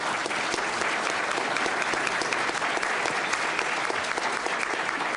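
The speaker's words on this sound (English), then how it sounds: "Round of applause for Mr. Kirk." Sustained applause from an audience at an Illinois business event, dense and steady clapping filling the whole stretch at even loudness with a faint crowd murmur beneath.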